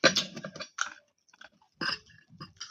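Someone chews omelette with dried flying fish, producing crunchy, wet bites in short close-up bursts separated by quiet pauses.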